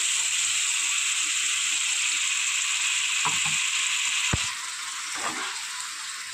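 Poppy seed paste and green chilli stir-fry in a pan with a steady, bright sizzle, broken by a few scraping stirs of a spatula and one sharp knock near the end.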